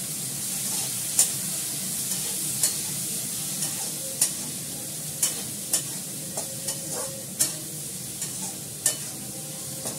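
Spices fry in a pan with a steady soft sizzle, while a spoon strikes and scrapes the pan about a dozen times at irregular intervals, close by with no voices.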